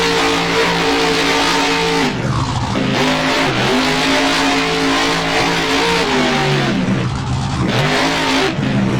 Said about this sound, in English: Some donuts here by the Beam Monsters Nomad.